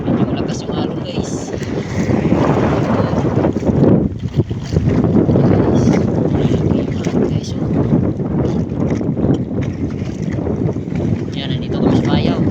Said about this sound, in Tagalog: Medyo lakas yung alon guys.